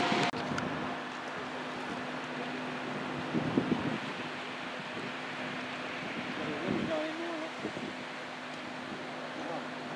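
Wind gusting across a microphone outdoors, a low rumbling buffet that swells and eases over a faint steady hum, with a few brief bumps.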